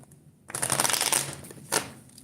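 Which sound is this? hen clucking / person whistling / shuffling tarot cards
shuffling tarot cards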